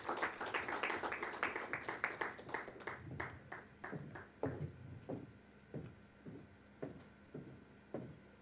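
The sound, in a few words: audience applause after a talk show speech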